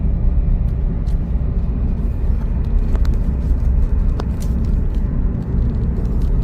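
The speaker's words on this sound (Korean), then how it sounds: "현재 가속 상태입니다" A SsangYong Tivoli car accelerating on a test drive, heard from inside as a steady low engine rumble and road noise that holds evenly throughout, with faint higher ticks over it and no speech.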